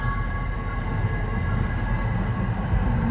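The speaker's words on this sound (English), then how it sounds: "I hear a train. There it is." A train rolls past in a steady, loud rumble with low rail noise and a faint tonal whine over it, continuous and fairly near, with no talk.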